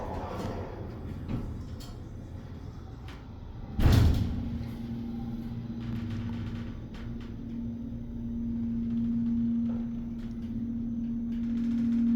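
An Otis Series 2 hydraulic elevator door moves with a heavy thud, followed by a steady mechanical hum that rises slightly as the door slides, over faint clicks.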